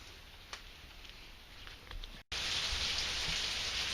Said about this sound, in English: it's raining outside here